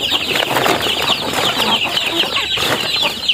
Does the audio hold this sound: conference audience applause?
no